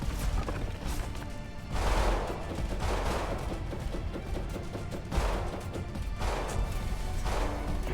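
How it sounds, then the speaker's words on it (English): Enemy guns fire at a ship in the Waves of Steel naval combat game, heavy booming volleys and rattling bursts layered over a constant low engine rumble, loud and continuous with no talk. "Oh, he's still firing at me!"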